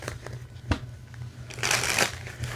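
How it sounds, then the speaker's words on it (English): Quick papery riffling of a card deck being shuffled up close, a couple of short flicks followed by a louder, dense burst of shuffling. "Let me shuffle this deck here."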